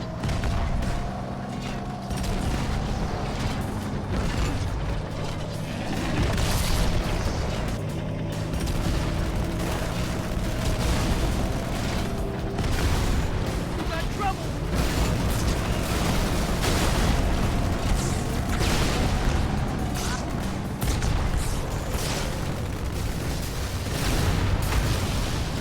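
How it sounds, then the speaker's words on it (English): Continuous Halo battle noise with RPG and tank explosions mixed with gunfire, a dense, loud, rumbling wash of booms and blasts lasting the whole stretch without a break. "Used an RPG and blew up some goddamn ghosts like a goddamn fucking badass that I am"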